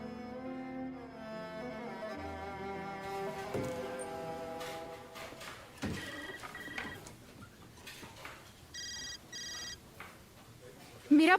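A telephone rings in a family home, its repeated electronic ringtone bursts sounding over voices and background music.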